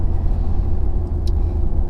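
A 2019 Ford F-350 Powerstroke pickup truck drives along, its steady low engine rumble and road noise loud and continuous throughout, with no talking.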